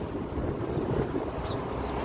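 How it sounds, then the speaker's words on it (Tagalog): Strong wind at a beach buffets the microphone with a constant low rumble and roar, with surf faintly mixed in beneath, loud and steady without speech. "O di ba, napakalakas ng hangin"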